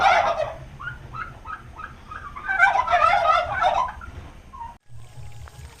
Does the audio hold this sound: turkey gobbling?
yes